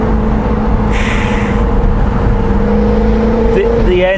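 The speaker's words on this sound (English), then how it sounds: "The engine is savage." Jaguar Project 7 V8 engine and exhaust, a steady deep drone with a continuous low rumble throughout, close and loud, rising slightly in pitch near the end; a brief burst of hiss partway through.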